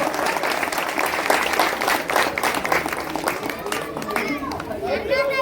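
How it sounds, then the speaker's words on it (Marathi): A crowd claps steadily throughout at a village Shiv Jayanti celebration during a garlanding honour, with chatter and voices mixed into the applause. "सर्व टाळ्याच्या गजरात सर्व टाळ्या वाजवा."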